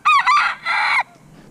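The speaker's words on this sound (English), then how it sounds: "He's the only rooster in here." A lone rooster in a coop crows close and loud, one full cock-a-doodle-doo in a few clear bursts, then quiet.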